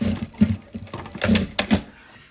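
A sewing machine stitches down the seam of a fabric face mask, giving short uneven bursts of rapid mechanical chattering, close and moderately quiet.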